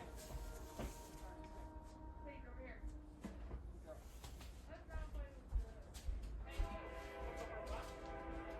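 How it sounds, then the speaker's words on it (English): A train passes nearby, with a steady low rumble and a hissing wash, brief horn-like tones and rising clatter toward the end. People talk over it throughout. "there goes the train"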